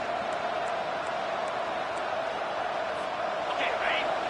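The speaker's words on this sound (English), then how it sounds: "Listen to the crowd energy here in the early going." A stadium crowd in the NCAA 25 college football video game roars as one continuous, dense wash of cheering noise. It holds steady and fairly loud across the whole stretch, with a slight swell near the end.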